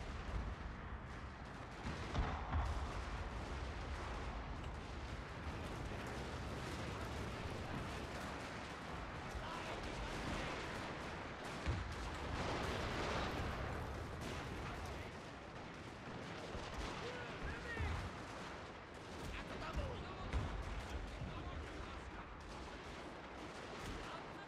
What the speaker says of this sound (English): Oh, incoming explosion, I think.